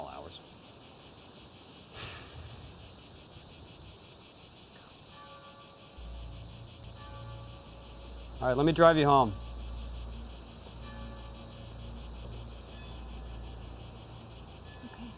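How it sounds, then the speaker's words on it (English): A deafening cicada chorus drones without a break through a night outdoors. Someone says a few words, and a car engine starts and then idles beneath the insects. "What is that, crickets? It's like deafening. I can barely hear myself think. They're cicadas."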